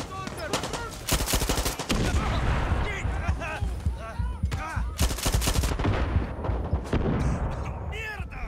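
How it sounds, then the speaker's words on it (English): Gunfire and rocket-launcher blasts in the Far Cry 6 video game come as dense rapid bursts and heavy booms, with loud explosions near one, two, five and seven seconds, and someone talks over the combat. "Look at this guy. The damn rocket launcher."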